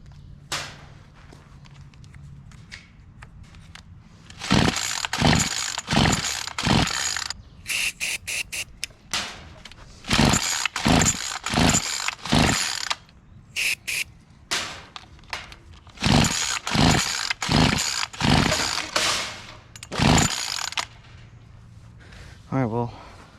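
A trashed weed wacker, sprayed with starting fluid, is yanked with repeated pull-cord strokes in quick bursts of rasping pulls separated by pauses. The engine never catches, and a voice talks between the attempts.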